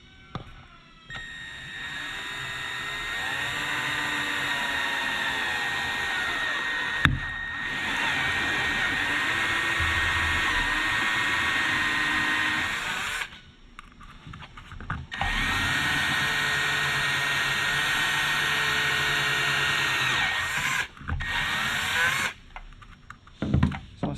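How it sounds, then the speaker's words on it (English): A power drill with a unibit step bit cuts a hole in a Ford F-Series truck panel during a stereo install, a loud sustained whine running for long stretches with a brief stop and short bursts near the end. "You can take your unibit, get it in the center."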